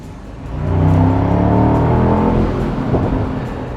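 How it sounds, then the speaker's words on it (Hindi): A Mercedes-AMG SL 55 roadster's V8 roars as the pedal is floored, a loud, close, deep engine note that swells quickly, holds strong and eases slightly near the end. "अब इस गाड़ी का जो V8 इंजन है वो किसी शेर की तरह आवाज़ करता है"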